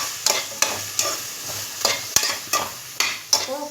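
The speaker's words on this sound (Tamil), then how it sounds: "ஒரு நிமிஷம் நல்லா வதங்கட்டும்." Capsicum and drumsticks sautéed in a pan for a drumstick gravy, a constant sizzle broken by regular scraping strokes of a spoon stirring, about ten in under four seconds, close and loud.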